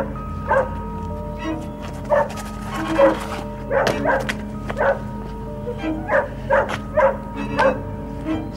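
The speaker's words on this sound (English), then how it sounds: "It's just next door's dog." Dog next door barking repeatedly, a steady run of sharp, evenly spaced barks at moderate distance over a constant low background hum.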